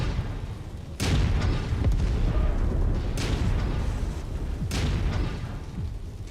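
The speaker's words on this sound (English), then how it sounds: "Incoming missile." An incoming missile explodes in the Mercs & Money video game, with three heavy booms landing about two seconds apart, each a loud sharp blast trailing into rumble over a steady background roar.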